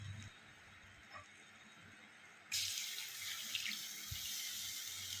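Milk pours into a pan for a white chicken stew, a sudden steady liquid rush starting midway after a quiet stretch and continuing loudly to the end.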